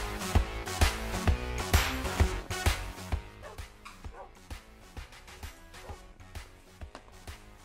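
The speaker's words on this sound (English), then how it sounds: "stop barking!" Tamed wolf in Minecraft barking repeatedly in a quick game brawl, a series of loud yips and bow-wows over busy game music and effects, thinning out toward the end.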